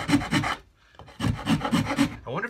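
Coarse rasp strokes on the wood of a cigar box guitar, two rapid bursts of loud, close scraping separated by a brief pause, with no talking.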